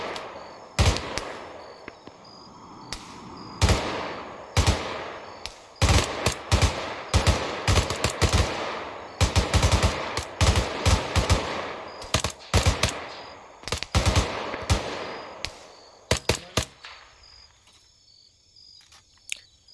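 Rapid gunfire from an Arma 3 military-simulation firefight: dense bursts of automatic fire mixed with single sharp shots, some near and loud, others farther off, continuing steadily before thinning out near the end, with no talk.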